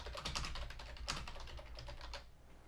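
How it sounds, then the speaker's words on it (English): Rapid, steady keystrokes on a computer keyboard while an email is typed, close and clear with no talking, a brief louder burst of keys partway through. "Okay, so I'm just going to type out an email."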